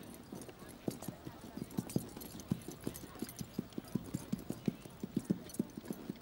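Horses' hooves clip-clopping at an equestrian event for riders with disabilities, a steady fast rhythm of sharp knocks on a hard surface, nearby and continuous under the ambient noise of the setting.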